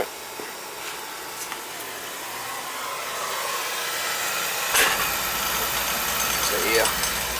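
A Beckett oil burner on a two-pipe system roars steadily with air in the oil line, a broad hissing rumble that builds slightly, with a few faint clicks and sputters.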